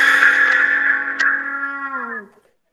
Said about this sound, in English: the player is using special tongue effects and something called a mute, which is basically a plug you put in the bell of the trumpet